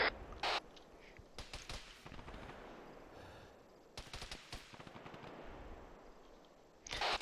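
Machine gun fire in the Arma military video game, bursts of rapid gunshots in several separate clusters, some sharp and close, others more distant, with no talking.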